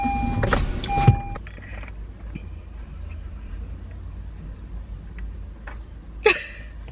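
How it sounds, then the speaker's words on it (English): A car's power window hums shut close by during the opening second, followed by a quiet cabin with faint rustles and a short sharp noise near the end. "Close my window."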